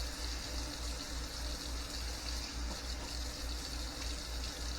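Hot water running steadily from a kitchen sink tap, a continuous rushing gush with a low rumble, close and unchanging, with no voices.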